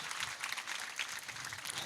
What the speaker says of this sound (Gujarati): આપણે જોરદાર તાળીઓથી બહેનોને વધાવીએ મહેમાનોને.